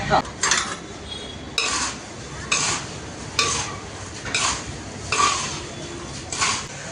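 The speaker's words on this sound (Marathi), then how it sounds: "आता मी उत्तम प्रकारे त्याला घोळायला चालू करतोय सगळं मिक्स करायला" Crisp chivda of fried poha, peanuts and curry leaves is tossed with salt in a metal pan, giving a steady rustling scrape with regular louder clanks of the spoon about once a second, close and fairly loud.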